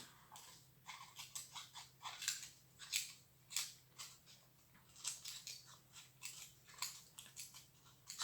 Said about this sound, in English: And then we just snip all the way around.